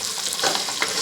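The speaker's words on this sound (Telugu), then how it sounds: "నెక్స్ట్ ఆనియన్, పచ్చిమిర్చి వేసేసుకోవాలి. బాగా వేయించుకోవాలి." Onion and green chillies fry in hot oil in a pot, giving a close, steady sizzle with brief scraping bursts as they are stirred.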